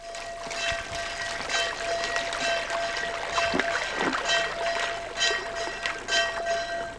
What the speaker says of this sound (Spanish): La limpieza de los toneles se hace lavando varias veces con un escobizo y agua caliente su interior